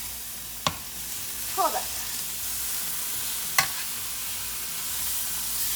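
Carne asada sizzling steadily in a pan, with a few sharp clicks and clatters as the meat is flipped; a brief spoken remark comes through over the frying.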